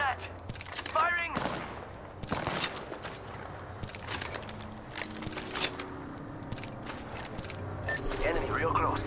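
Scattered shots and short automatic bursts of gunfire in Apex Legends ring out at moderate loudness, mixed with game effects and frequent voice callouts.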